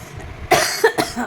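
A short burst of coughing, two or three quick rough coughs close to the listener against a quiet room.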